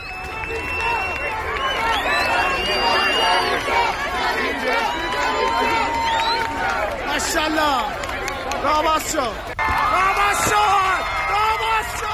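A large crowd of protesters clashing with Iranian forces on a Tehran street at night, with loud continuous hubbub, shouts and whoops and people running, and a news voice talking over it.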